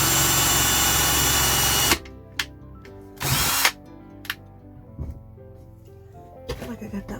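A faulty power drill whirs loudly and steadily for about two seconds, then stops, followed by a couple of short bursts of drilling amid quieter handling noises.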